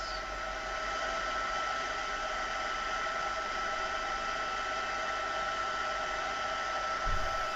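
A heat tool blows continuously while heat-setting craft work, a steady close whooshing hiss with an even level throughout and a brief bump near the end.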